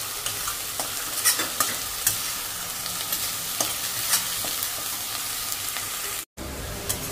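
Garlic, ginger and spices fry in oil in a pan for a katla fish curry, giving a steady close sizzle with scraping stirs throughout and a brief cut near the end; nobody speaks.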